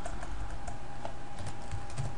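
Someone types on a computer keyboard, with soft, rapid key taps over a steady background hum, close but fairly faint, and no talking.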